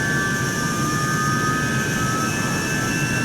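Hawker Sea Hawk jet engine in a flight simulator game, a steady droning whine with high tonal hum, continuous and fairly loud throughout, no talking.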